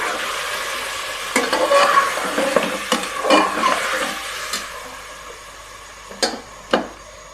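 Garlic ginger paste frying in a pot for a mutton namkeen gosht, with a steady sizzle broken by several scraping strokes of a spoon stirring against the pan, close and fairly loud.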